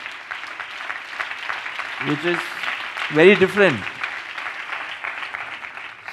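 Audience applause at a spiritual discourse hall, a steady wash of clapping running throughout while someone speaks briefly over it.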